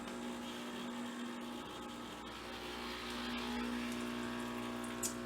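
A CBTL Americano pod coffee machine brewing an 8-ounce cup, a steady pump hum with a constant tone and gurgling water, low and continuous.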